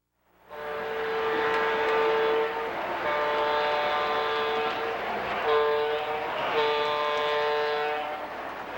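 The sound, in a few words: O gauge model train whistle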